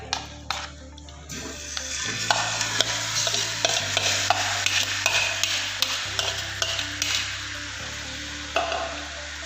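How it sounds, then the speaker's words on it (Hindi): Marinated chicken sizzling in a pan over low heat while a spoon stirs it, with steady frying hiss, scraping strokes and small metallic clinks against the pan, close and continuous. "अब चिकन को अच्छे तरीके से पकने देंगे हल्की आंच पर।"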